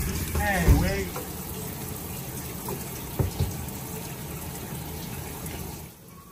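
Tap water runs steadily at a sink to fill a bath for a dog, a continuous close wash of flow with a brief louder gush near the start and people talking over it.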